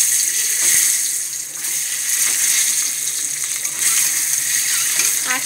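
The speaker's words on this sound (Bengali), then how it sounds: "ওই আলু ভাজার তেলটাতে ডিমগুলো দিয়ে একটা একটা করে ভেজে নেব।" Beaten eggs frying in leftover potato-frying oil, a constant hissing sizzle with occasional spatter pops and utensil taps, close and fairly loud.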